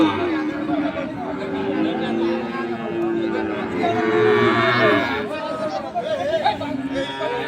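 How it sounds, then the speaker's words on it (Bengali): Sahiwal bull calves and cattle at a busy livestock market lowing and mooing steadily, with a crowd of people chattering and bargaining all around them throughout. "আমরা দেখছি আমবাড়িঘাটের হাটের জাতের ষাড় বাছুর গরুগুলো"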